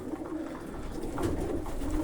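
Steady low cooing of pigeons in a loft, several birds murmuring close by in a continuous soft rolling drone.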